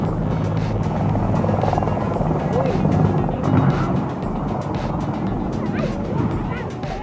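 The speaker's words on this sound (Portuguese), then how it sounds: "Um helicóptero militar ficou preso nos cabos elétricos de um campo de futebol durante a decolagem." A military helicopter lifts off from a football field near power lines, its rotor thudding loud and steady throughout at close range, with a brief barking dog and faint voices in the background.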